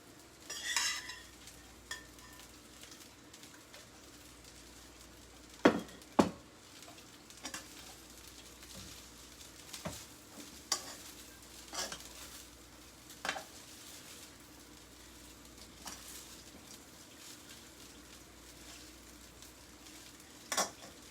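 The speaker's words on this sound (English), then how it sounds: "Our rice is literally frying for us, which is a good thing." Quiet frying sizzle of rice in a pan with occasional scraping and stirring clatter from a utensil, no voices.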